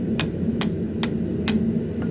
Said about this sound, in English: I'm going to start to hammer that flat.